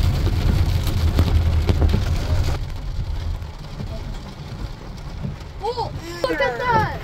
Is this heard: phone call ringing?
no